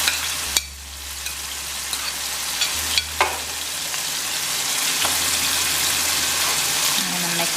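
Onion, garlic, wiri pepper, garam masala and curry powder fry in a pot as a masala is stirred, giving a steady close sizzle with a few sharp scrapes and knocks of the spoon against the pot.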